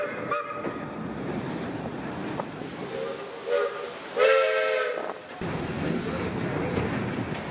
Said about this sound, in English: we took the old steam train to a sugar factory museum